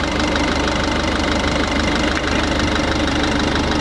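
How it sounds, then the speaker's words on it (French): A repaired truck engine idles steadily and close, a continuous even rumble with a faint knocking texture and no talking. "Là, déjà, il est carrément moins bruyant."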